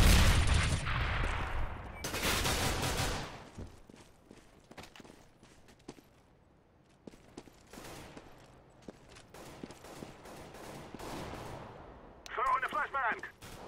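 Gunfire in a video game after a flashbang is thrown, with loud bursts of shots and scattered sharp cracks and footsteps across the stretch, while voices talk over it.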